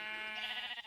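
Sheep bleating in the Minecraft video game, penned on grass blocks: a single drawn-out, wavering bleat that swells in the middle and fades near the end, heard alone.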